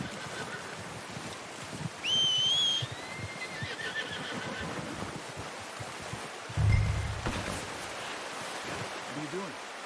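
In Red Dead Redemption 2, a horse gives one sharp, rising whinny early on, set against quieter game ambience with scattered thuds and hoof sounds.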